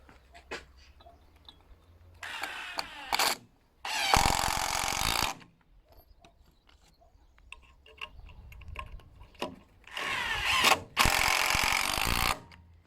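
A power drill drives screws into a wooden roof truss while a house is built, giving four separate whirring bursts of one to two seconds each, close by, with quiet handling noises and light tapping between them.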